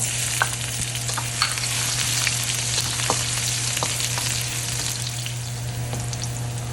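Ginger sizzles steadily in hot oil in a pan under a running kitchen exhaust fan, with occasional sharp pops and spatters and a constant low hum, no voices.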